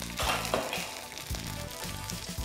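Rava uttapam, an instant sooji batter with a little poha added, sizzles and fries in oil on a hot pan, a close steady crackle with soft scraping touches throughout.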